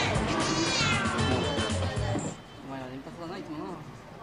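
Cats at a Tokyo cat café give wavering meows while a narrator talks over them, with the cat calls continuing more clearly once the talk fades.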